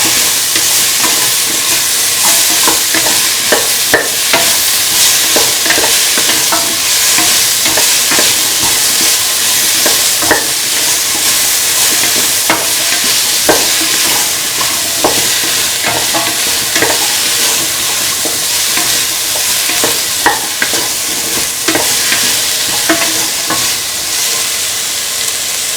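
Tomato pieces and green chili frying in a pan, loud and close, with constant sizzling hiss punctuated by frequent clicking spatula strokes as the mix is stirred, no voices.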